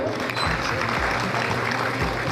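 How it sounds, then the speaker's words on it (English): Audience clapping for a committee standing up at an association's annual meeting, a steady dense wash of applause that holds evenly throughout, with a low rumble underneath. "Can we please clap for them?"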